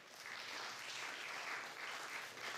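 Applause from an audience at a live short-film festival awards ceremony, a steady continuous clapping wash that stays fairly faint and distant from start to end, with no voices over it.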